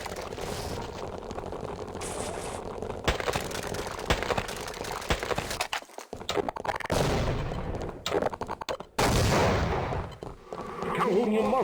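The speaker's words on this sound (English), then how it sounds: "Let's shoot it in the head." Video game gunfire crackles in repeated sharp bursts and rapid volleys, loud and close, with brief pauses between them and voices heard at times.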